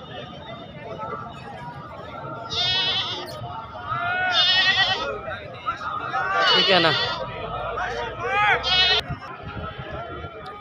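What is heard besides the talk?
black Beetal goat bleating at market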